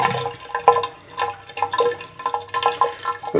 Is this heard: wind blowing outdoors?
no